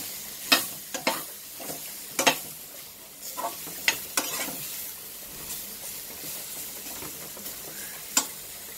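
Bitter gourd sautéing in oil for a tamarind curry, an even close sizzle punctuated by sharp, irregular spatula scrapes and taps against the pan, several strokes spread across the stretch.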